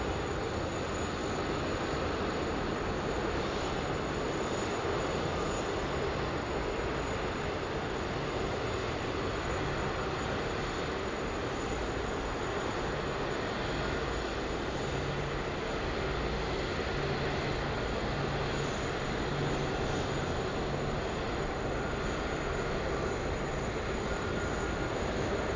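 Two Qantas Boeing 737s in retro livery at Sydney or Brisbane airport, their jet engines a steady, loud broadband roar that holds without a break and without voices.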